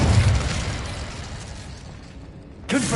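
Incendio fire spell cast in Hogwarts Legacy, a loud whooshing burst of flame that fades over a couple of seconds before a brief new sound cuts in at the end.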